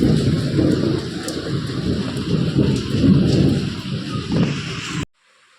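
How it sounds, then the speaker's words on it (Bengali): Heavy rain roars steadily outdoors with deep rumbling underneath like distant thunder, then cuts off abruptly into silence near the end. "বাইরে বৃষ্টি হচ্ছে"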